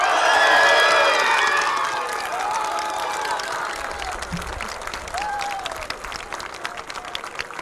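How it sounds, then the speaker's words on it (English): A crowd at a EuRoC rocket launch day cheers and claps right after liftoff, loud at first with bright shouts and screams, then settling into steady applause and scattered whoops that carry on to the end. "And they are cheering, they are so happy. They screamed a lot, they are clapping"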